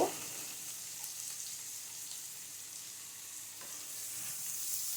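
Spiced food frying in a pan, a soft, even sizzling hiss that stays steady throughout, with one brief faint clink at the start and no talking.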